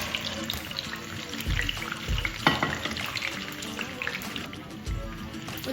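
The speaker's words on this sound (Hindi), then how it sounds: "पैन में ऑयल डाल के रख दिया है गर्म, ताकि मैं अंडे फ्राई कर सकूँ।" Eggs fry in hot oil in a pan, a steady close sizzle and crackle with scattered pops and a few dull utensil knocks against the pan, with no talk.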